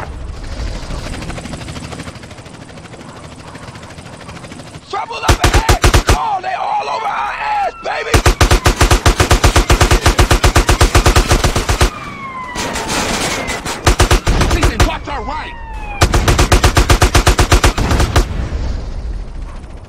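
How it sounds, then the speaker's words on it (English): Bursts of rapid automatic gunfire in GTA San Andreas during a gang shootout mission, loud repeated volleys broken by short pauses, with a siren wail and helicopter drone in the background. "Just shoot everybody"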